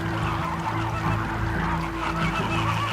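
A flock of flamingos calling together in a dense, unbroken chorus of nasal, goose-like honks, loud and close, with many overlapping voices.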